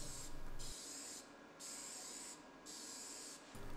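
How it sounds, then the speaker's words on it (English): Spray paint hissing onto the side of a dumpster fire pit for graffiti, several steady sprays from close by, each broken by short pauses. "it's just not a dumpster without some crudely rendered graffiti sprayed on the side."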